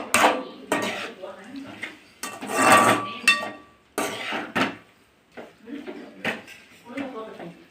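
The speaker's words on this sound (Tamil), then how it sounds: "இப்போ நம்ம இதை நல்லா கிளறி விடுறோம்." Mutton with ginger garlic paste is stirred in a pan for a homemade mutton kola urundai, giving repeated metal scraping and clanking strokes in irregular bursts, close by, with someone talking intermittently.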